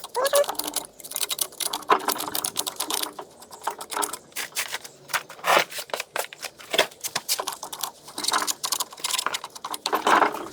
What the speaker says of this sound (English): I'll just remove a little bit of this carbon buildup right here.